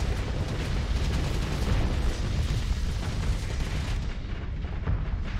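Space station barrage firing on a ship in the video game Starsector: a dense, continuous roar of overlapping booms and explosive bursts, loud and unbroken, thinning slightly near the end.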